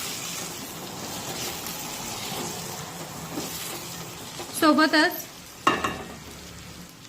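Soaked chana dal stirred into hot tempering oil for a spicy ridge gourd sabzi, a steady low sizzle broken by a couple of louder scraping stirs near the end, with a brief spoken word over it.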